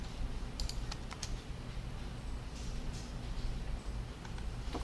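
Typing Java code on a computer keyboard, a steady run of quiet, close key taps with no talking.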